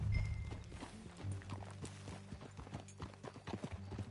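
Horse hooves clip-clopping at a walk in Red Dead Redemption 2, a close, steady run of hoof strikes throughout with no other sound covering them.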